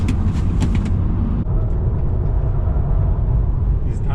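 Tesla Model 3 Performance on a race track, tires roaring and droning loudly over a heavy, steady low road rumble from inside the car, with a few brief ticks near the start.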